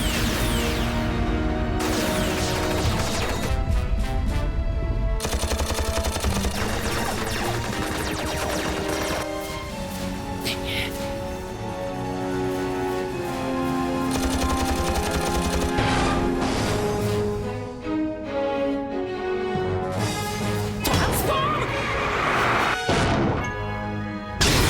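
Cannon bombardment in a Transformers animated battle: loud, repeated crashing blasts and heavy impacts pound in a dense barrage over dramatic background music.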